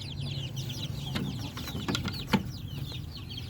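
Chicks and chickens in a coop give out a busy chorus of high, rapid peeping and chirping over soft clucks. The sounds are moderately close and keep going without a break, and no one speaks.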